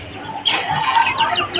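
Chickens and ducks cluck outdoors beside a coop, a dense overlapping chorus of short, bright calls that grows louder after a moment and continues without pause.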